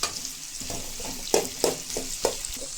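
Onion and green chilli fry in a pan with a soft sizzle, broken by several clacks as a spoon stirs and scrapes, close by with no talking.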